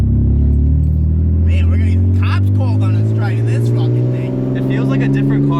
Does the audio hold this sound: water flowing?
no